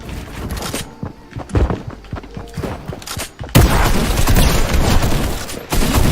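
Rapid bursts of gunfire from a shooter video game crackle and boom, with dense overlapping shots and thumps, then a louder, sustained volley in the second half.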